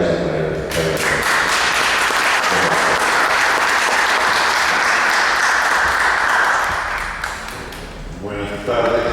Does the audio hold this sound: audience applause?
yes